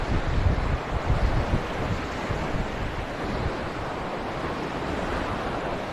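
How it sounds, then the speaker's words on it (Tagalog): Sea waves washing onto the shore, a broad steady wash of surf noise with some wind buffeting the microphone, loudest at the start and then settling into an even, continuous roar. "Ganda talaga ng dagat ito."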